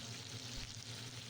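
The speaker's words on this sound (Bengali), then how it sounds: "এর মধ্যে আমি বিফ দিয়ে এটাকে গোল্ডেন ব্রাউন কালার করে নেব।" Beef browning to a golden colour in a hot pan for a classic roast beef, giving a dense, even sizzle and crackle close by, with no voices over it.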